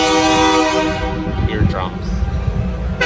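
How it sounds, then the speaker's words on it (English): A train horn in New Orleans blares loud and close, a sustained chord-like blast that fades after about a second. Rumbling rail noise and scattered clanks follow, and a short squealing sweep comes near the middle. "All right, that train was just honking like crazy."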